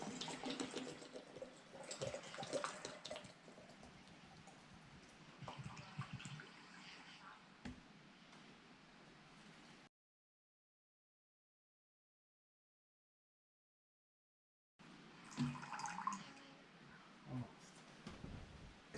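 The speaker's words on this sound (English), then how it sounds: "We're going to fill it with water." Tap water pours into glass jars holding apple pieces for homemade apple cider vinegar, a close, uneven splashing and gurgling that cuts to silence midway and then resumes briefly.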